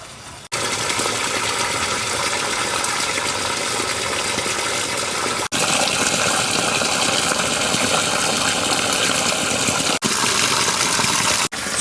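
Water gushing steadily from the test and drain discharge point on the side of a building during a garage fire sprinkler system test, a constant loud rushing hiss with a few brief breaks.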